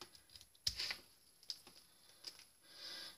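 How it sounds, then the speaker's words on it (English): Scissors cutting through three stacked post-it notes for card-making masks: soft close snips and rustling paper scrapes, quiet and irregular with no talk. "Save time when you're cutting, and I'm just going to cut it out."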